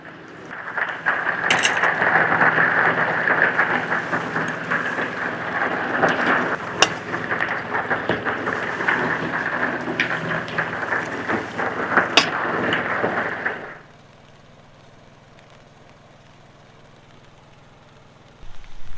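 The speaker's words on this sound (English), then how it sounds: "Now it's really raining. It just picked up even more." Heavy, steady rain pours down near a creek with a dense roar and occasional sharp drop impacts, then abruptly cuts to near silence before a faint return at the end.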